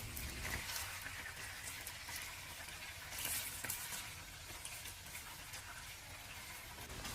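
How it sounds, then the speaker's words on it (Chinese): Marinated pork shoulder pieces pan-fry in a little hot oil over medium heat, giving a soft, steady sizzle with light crackling throughout, quiet and without speech. "将梅花肉的4个面都给它煎一下。"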